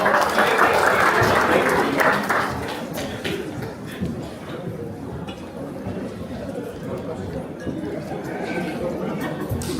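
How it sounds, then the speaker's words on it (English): Applause at a Samoan celebration show, loud and dense at first, then easing into a softer, thinner spread of claps with crowd murmur and shuffling underneath. "Round of applause for Roma."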